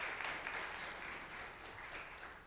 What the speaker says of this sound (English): So we give a big round of applause for Arturo.